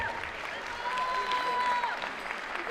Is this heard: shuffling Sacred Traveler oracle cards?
no